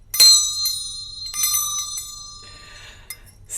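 A bell rings out once in a stage play, a clear, bright strike whose tone hangs and slowly fades, with a few faint clinks afterward.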